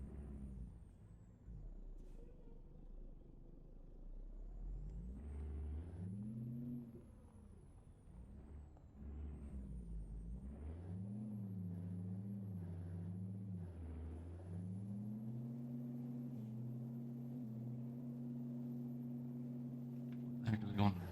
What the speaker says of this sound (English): I don't know why this truck likes to start in fifth.